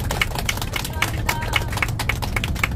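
A group of elderly people on an outing to Cheong Wa Dae claps in a brisk, even rhythm, a close run of sharp hand claps with faint voices beneath.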